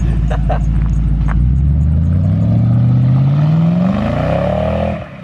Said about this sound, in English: Oh my God, spin fest. Zero traction in that thing.